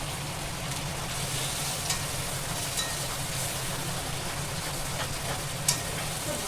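Chicken pieces frying in a pan for a South Indian fusion recipe give a steady, close hiss of sizzling oil, continuous and even, broken by a few brief sharp pops and stirring clicks.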